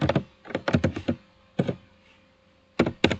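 Clustered clicks and heavier thunks of a computer keyboard being typed on, close by, with quick bursts of keystrokes separated by short pauses and an occasional firmer press like the Enter key.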